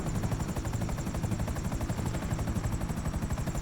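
Video game gunfire aimed at the Titan: rapid, evenly spaced automatic shots in a dense unbroken burst, loud and close throughout.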